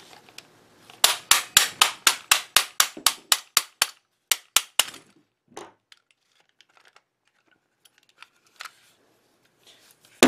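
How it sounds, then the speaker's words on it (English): Repeated hammer-like pounding on a stiff slide of a Stoner LMG, about sixteen sharp loud knocks in a fast regular rhythm, then scattered softer taps and clicks in a quiet room. "it's very stiff, so you're going to actually pound it down to get it to move"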